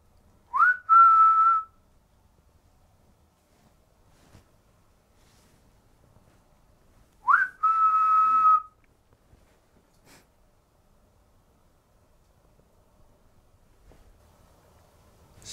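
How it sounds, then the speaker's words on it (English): Two short whistled notes, each a quick upward slide into a steady tone, separated by a long silence in an otherwise quiet chamber of Tinkinswood tomb. "I'm gonna whistle and I'd like you to whistle back,"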